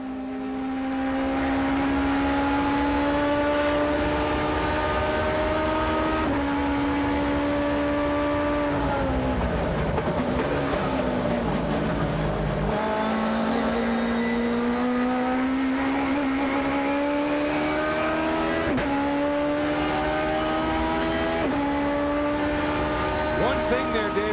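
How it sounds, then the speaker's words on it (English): A Toyota GT3-class race car engine roars continuously on a track, pitch climbing and dropping through gear changes as it accelerates and brakes, loud and close throughout. "listen to the sound coming from Pete Peterson's beautiful GT3 Toyota."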